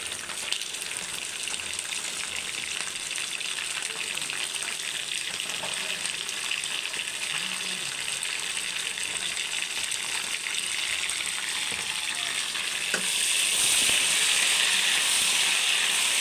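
Chicken pieces fry with onions in hot oil, a steady loud hiss and sizzle throughout that swells even stronger toward the end, with no voices over it.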